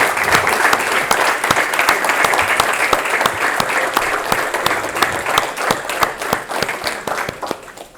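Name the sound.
audience applause for the ENSE team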